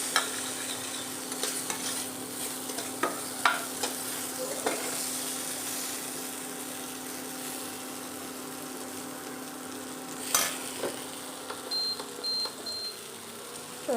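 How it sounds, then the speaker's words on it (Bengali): Soybean chunks fry in oil in a rented kadai while being stirred, producing a moderate continuous sizzle with scraping and clinking spatula strokes scattered through, a faint high beep near the end, and no speech. "এবার এটাকে একটু ভালো করে ভাজা ভাজা করবো।"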